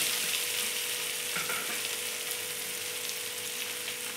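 Tomato and salt frying in a pan for a broccoli curry give a continuous soft sizzle and hiss, close but quiet, with a faint stir partway through and no voices.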